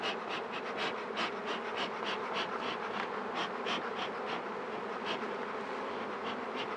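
A dense swarm of honey bees hums steadily around hives being moved, close and continuous, with individual bees buzzing louder as they pass near.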